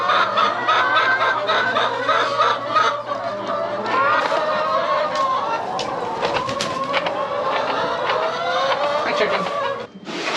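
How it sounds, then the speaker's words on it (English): Chickens clucking on a farm with cattle, a busy run of overlapping clucks and squawks from several birds close by, continuing throughout. "Chicken."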